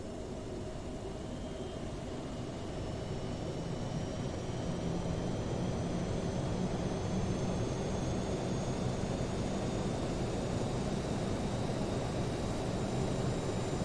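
Aerosoft CRJ-700 jet engine spools up in Microsoft Flight Simulator, a low, steady roar with a thin rising whine, faint and continuous with no voices.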